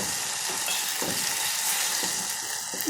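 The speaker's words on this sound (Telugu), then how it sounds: "పసుపు కొద్దిసేపు వేయించుకున్నాము" Turmeric frying in a pan for pepper and tomato rasam, a constant bright sizzle with soft bubbling and a few light knocks at intervals.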